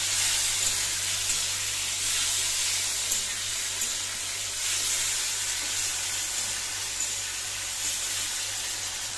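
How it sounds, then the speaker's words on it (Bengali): Fish sizzling in hot oil in a pan in a home kitchen, a steady close hiss holding evenly the whole time with no voices over it. "এই মাছগুলো ততক্ষণ ভাজা হোক"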